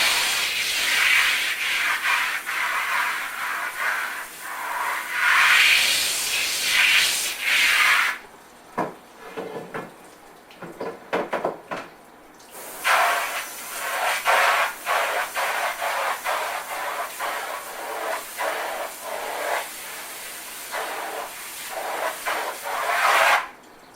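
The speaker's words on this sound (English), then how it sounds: "Okay, rinse my brush out. And rinse the screen." A brush and a screen-printing screen being rinsed with water; hissing, rubbing spray sweeps back and forth in bursts, pauses for a few seconds, then resumes with steady strokes.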